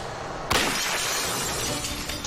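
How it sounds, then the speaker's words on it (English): Window glass bursts apart from a gunshot during a robbery, a single sudden loud shatter followed by a dense spray of falling shards and tinkling debris that trails on for nearly two seconds. "The explosion of glass catches them all off guard."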